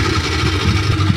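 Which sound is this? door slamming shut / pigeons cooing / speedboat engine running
speedboat engine running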